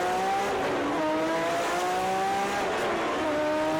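A 1987 Nissan GT-SR HR31 in the Forza racing game, its engine revving loudly and steadily through gear changes with rising and falling pitch, tires faintly squealing, with no talk.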